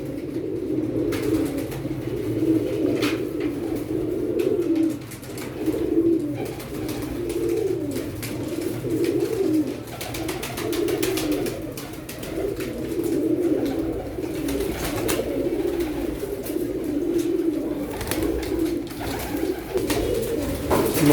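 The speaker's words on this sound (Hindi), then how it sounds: "ये भी सियालकोटी कबूतर है" Sialkoti pigeons coo steadily and close by, soft repeated low burbling calls overlapping throughout, with faint chirps in the background.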